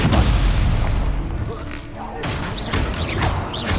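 A Stupefy spell cast in the Hogwarts Legacy video game, a rumbling magical boom with whooshing bursts and bright chirps, layered over constant combat noise.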